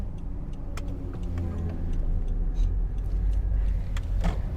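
A 2021 Honda Civic 1.8 EL on a test drive, heard from inside the cabin as a steady, close engine and road rumble with faint clicks, lasting throughout.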